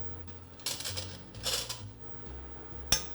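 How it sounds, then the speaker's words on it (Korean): Chopped roasted zucchini is stirred in a metal pot during French cooking, giving soft scraping with a few sharp utensil clinks against the pot, quiet and close. "냄비에 이렇게 저어줍니다."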